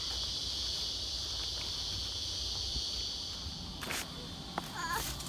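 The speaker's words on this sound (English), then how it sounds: "can you hear the cicadas?" A steady, high-pitched insect drone, like cicadas, buzzes continuously throughout, with a few faint clicks and rustles near the end.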